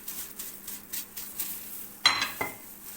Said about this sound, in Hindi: इसमें हम अच्छी तरह सारे मसाले मिक्स कर लेंगे